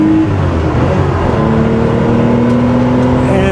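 A 1979 Porsche 911 SC Targa with a freshly overhauled engine and transmission powers through a corner, its flat engine droning loud and close, holding a steady note before pulling slightly higher as it accelerates.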